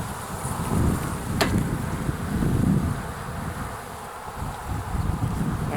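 Honey bees hum around frames of honey at a hive during a cool spring check, a steady, close, wind-buffeted drone with no voices.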